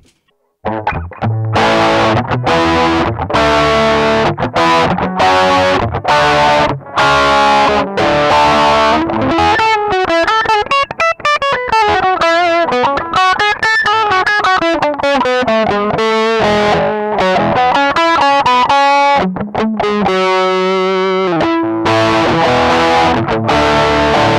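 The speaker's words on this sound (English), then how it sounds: "here it is a mid boost a, higher, hired pushed mid range" Distorted electric guitar played through a graphic equalizer pedal set to boost the mid range, a loud run of strummed chords followed by a melodic lead line, with no talking.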